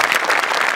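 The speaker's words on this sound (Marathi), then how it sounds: "गौरव मोरेसाठी एकदा आपण टाळ्या वाजवूया." Steady audience applause for comedian Gaurav More at a Marathi comedy show, a dense, even wash of clapping filling the whole moment without any voices.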